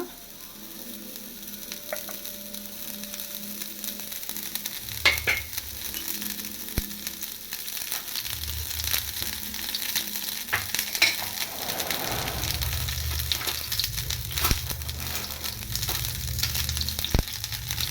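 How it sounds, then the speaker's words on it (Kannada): Onion rings sizzle steadily in a hot pan for an onion ring omelette, a continuous crackling fry with occasional clicks and scrapes of a utensil, close and moderately loud with no talking. "ಇದು ಈರುಳ್ಳಿ ತೊಗೊಂಡಿದ್ವಲ್ಲ ಅದನ್ನು ಈ ಥರ ಒಂದೊಂದೇ ಕೊಳ್ಳೋಣ"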